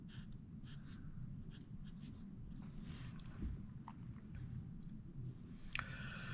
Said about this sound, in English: So I need to draw two lines. Two parallel lines.